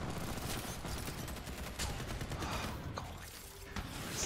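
Sustained automatic machine gun fire in the online shooter First Assault Online, dense overlapping bursts that stay loud and continuous throughout with no pauses.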